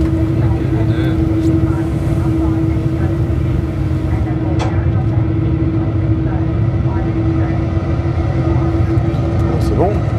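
An aircraft engine runs with only one engine turning after start, giving a steady, close, loud drone with a constant hum inside the cockpit throughout.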